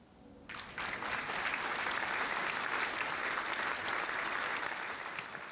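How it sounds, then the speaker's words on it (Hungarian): Dense, steady applause from a crowd rising suddenly after a brief quiet start and holding loud throughout, heard as game audio in Banishers: Ghosts of New Eden on PS5. "Tapsolás itt is van"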